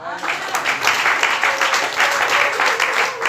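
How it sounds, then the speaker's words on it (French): A church congregation applauds to acclaim Jesus, with steady, dense clapping from many hands sustained throughout, with voices mixed in. "Quelqu'un peut acclamer Jésus"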